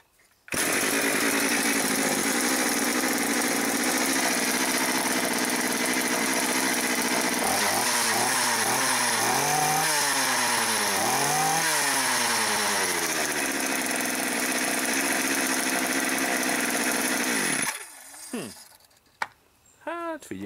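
A petrol-powered engine, likely a chainsaw-type power tool from a newly unboxed purchase, starts and runs loudly and steadily for about seventeen seconds, with a revving, pitch-shifting stretch in the middle before cutting out, then brief faint sounds follow.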